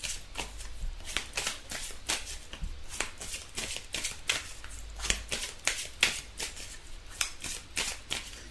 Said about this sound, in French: on va tirer une carte pour compléter, on va tirer une carte conseil